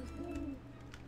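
Soft cooing from a bird in the Pumpkin Jack video game, a short low warble that rises briefly and then fades, heard alone with no talking.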